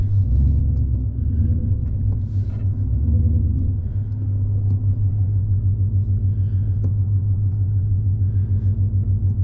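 A low, supercharged 2025 Mustang GT with a manual gearbox creeps over parking-lot speed bumps on a rainy morning. A deep, steady exhaust rumble sits close and constant, with faint thumps and creaks from the suspension as the car rolls over each bump.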